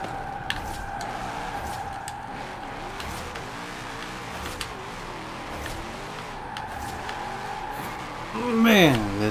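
In the Forza video game, a Formula Drift Rain-X Nissan 240sx drift car's engine drones steadily while its tires skid. The engine then surges and climbs loudly in pitch near the end.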